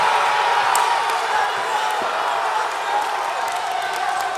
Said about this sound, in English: And the Woodbridge crowd comes alive now.